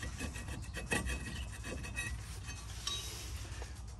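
An old, crusty brake rotor is worked off the hub of a 1997 Chevy Suburban, giving close, quiet scraping and rubbing of rusty metal with a faint clink or two and no talking.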